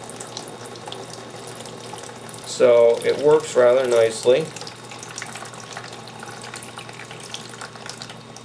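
Excess water trickles steadily out of the drainage holes at the bottom of a semi-hydro hoya pot, a soft continuous flow with someone speaking briefly over it partway through.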